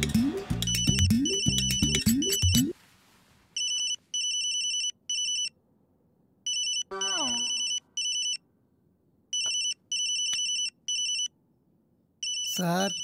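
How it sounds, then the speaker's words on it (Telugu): A telephone ringtone sounds in repeated short electronic bursts separated by brief silences, following a loud opening passage of other sound. "రింగ్ అవుతుంది."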